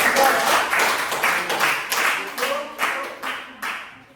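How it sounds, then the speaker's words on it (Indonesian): A classroom of students claps for a group of classmates. Rhythmic bursts of clapping rise and fall, and voices talk and call out over them throughout. "tepuk tangan dulu untuk kelompok 3"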